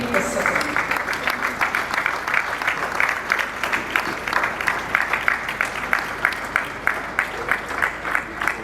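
An audience at an anniversary ceremony rises for a standing ovation, steady dense applause filling the hall throughout with a faint murmur of voices beneath.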